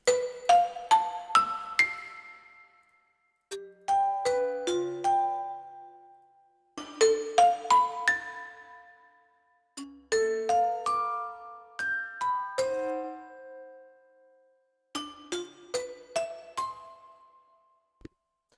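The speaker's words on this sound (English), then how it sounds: "So here are the vibraphones soft." Soft sampled vibraphone patch from an abstract mallets library, playing gentle arpeggiated phrases in five separated groups, each note ringing with a lingering metallic shimmer and slow decay; no voices.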